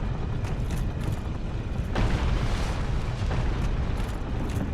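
Heavy stone boulder ball rolling down a hallway in Dark Souls, a deep continuous rumble with a sharper thud partway through, steady and loud throughout.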